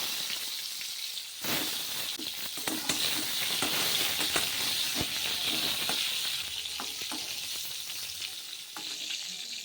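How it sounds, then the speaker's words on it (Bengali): Luchi, puffed flatbread, frying in hot oil in a home kitchen: a dense, steady sizzle with frequent sharp crackles and pops, close and loud, with no talking. "এদিকে তো লুচি ভাজা হয়ে গেল"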